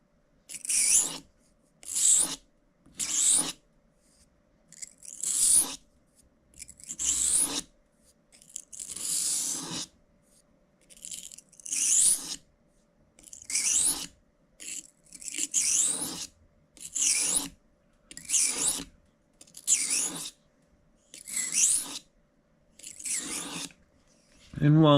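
Small peeling knives are sharpened with a steady series of about sixteen short rasping strokes at an even rhythm, each separated by a brief pause.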